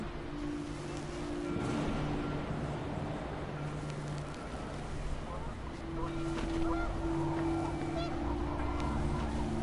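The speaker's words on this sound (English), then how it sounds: "The wind picked up, and panicked geese appeared and quickly went." Panicked geese honking in the video game What Remains of Edith Finch, a steady flock clamor over wind and water-like noise, continuous and moderately distant throughout.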